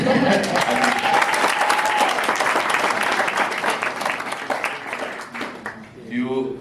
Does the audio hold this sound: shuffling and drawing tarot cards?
no